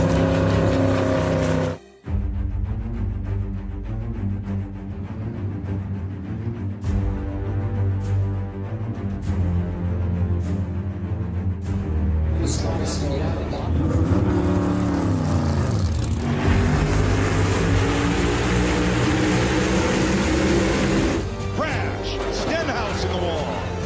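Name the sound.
NASCAR race cars racing at Daytona 500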